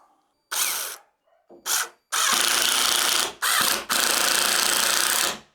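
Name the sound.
power drill screwing deadbolt into door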